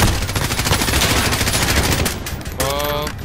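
Automatic gunfire from the Call of Duty Modern Warfare campaign mission Fog of War, a loud continuous rattle of rapid shots filling the whole clip, with a short break near the end before firing resumes.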